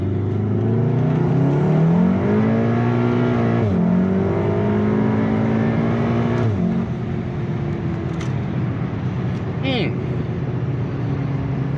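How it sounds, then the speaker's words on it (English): A tuned MK7 VW Golf R with an EA888 engine, IS38 hybrid turbo and port injection rev hard through a second gear pull. The loud interior engine tone climbs, drops at shifts, then fades to road noise with faint talk. "we're going to do a second gear pull here"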